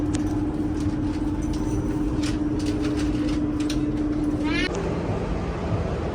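Inside a moving metro train, a steady low rumble and constant mechanical hum fill the car, with a few faint clicks and a brief electronic chime near the end.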